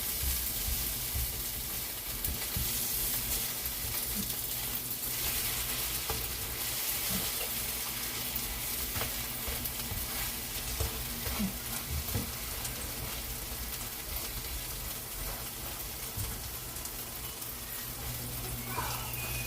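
Enoki mushroom pancake sizzles and fries steadily in a pan over medium heat, a continuous crackling hiss with occasional spatula scrapes and clinks, close and even throughout.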